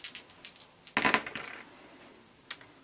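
Four small takeoff dice from the board game Magnificent Flying Machines clatter onto a table, a burst of quick rattling hits that trails into a settling roll, followed by a single sharp click.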